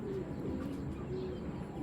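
A pigeon coos softly in a low, steady murmur throughout, faint and continuous against a quiet background.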